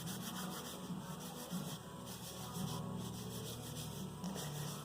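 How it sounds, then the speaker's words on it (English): A rag rubs a light coat of oil onto rusty metal in faint, repeated wiping strokes, a soft scratchy friction sound with no voices. "I'll go ahead and soak it down good with the rag"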